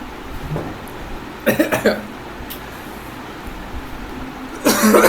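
Indoors during a history lecture, someone coughs in two short clustered bursts mid-clip and again near the end, over a quiet background hum.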